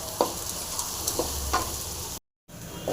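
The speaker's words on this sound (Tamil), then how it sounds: "வெங்காயம் பூண்டு நல்லா ஃப்ரை ஆகிடுச்சிங்க ஓகேங்களா நல்லா சூப்பராக ஃப்ரை ஆகிருக்கு" Onion and garlic fry in a pan, a continuous close sizzle broken by a few short stirring scrapes and clinks, with a brief dropout near the end.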